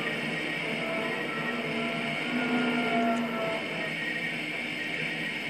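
A tram in the Trainz rail simulator crosses an intersection with a steady, close rolling rumble and faint metallic squeal that runs throughout, with no voices.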